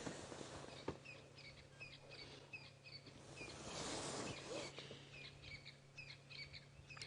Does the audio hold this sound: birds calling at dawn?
yes